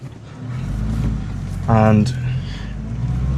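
A 1988 Volvo 240 car drives along with a steady low engine rumble and a brief louder rev partway through. A voice speaks briefly over it.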